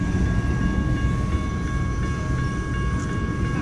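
BNSF intermodal trailer train led by warbonnet-painted locomotive 4703 passing a street crossing on Baker St, a steady loud rumble of rolling freight cars with faint wheel clatter and a high whine, close by and continuous.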